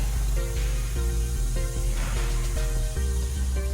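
Primer sprays onto the interior of an R34 Skyline, a continuous broadband hiss over a low mechanical hum with faint tonal steps throughout.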